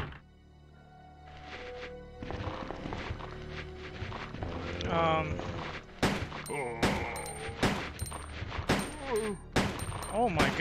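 Gunshots in Resident Evil 2 on the PS1, several sharp bursts from about six seconds on, ringing out amid game music and effects, with someone talking over earlier parts.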